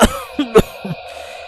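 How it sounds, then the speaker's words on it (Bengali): An elderly man coughs in a horror story scene, three or four harsh, close coughs in quick succession with throat rasp, no talking. "কাশিটা প্রচণ্ড বেড়েছে ভাই"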